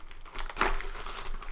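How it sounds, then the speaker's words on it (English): A Magic: The Gathering Lord of the Rings set booster pack wrapper is torn open, a sharp crinkling rip of foil plastic close to the mic with rustling before and after. "We're going to open the set booster first."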